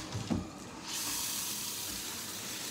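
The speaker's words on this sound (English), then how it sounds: "Start the water," Water starts running from a tap into a sink while cleaning up after a duck, a steady close hiss that begins about a third of the way in after a brief clunk and continues evenly to the end.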